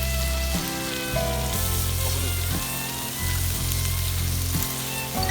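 Food sizzles and fries on a griddle pan at a campsite, a steady, close crackle with rhythmic bursts of louder frying and no voices.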